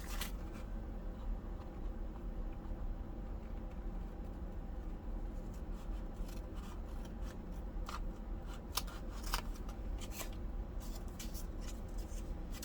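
Scissors snip through two playing cards glued together for a junk journal, a run of crisp close cuts with short pauses, more frequent toward the end over a steady room hum.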